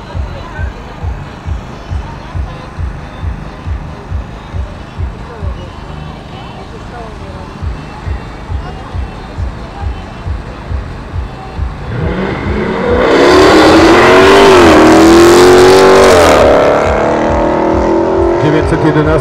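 At a quarter-mile drag race on an airfield, an engine idles with a steady throbbing pulse. Then a Porsche 911 and a Dodge launch, and loud, rising engine roar fills the last seconds. Voices are heard over it.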